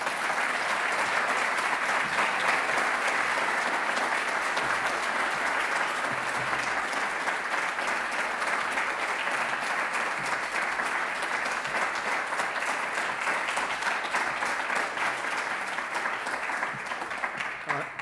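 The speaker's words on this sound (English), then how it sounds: "Give them a round of applause" Long, even audience applause for a university orchestra string quartet at a graduation ceremony, a broad, steady wash of many hands clapping that holds for the whole stretch and softens slightly at the close.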